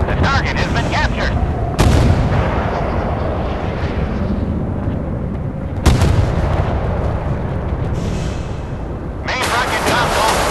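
In the warship battle game Force of Warships, missiles and naval guns fire and strike targets, producing heavy booming blasts and dense rumbling explosions that swell at a few sharp onsets, while voices talk over the action.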